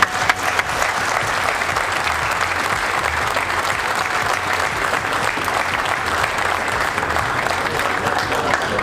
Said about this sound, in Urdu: آپ سب کی تالیوں کی گونج اس گرمجوشی کی مظہر ہونی چاہیے۔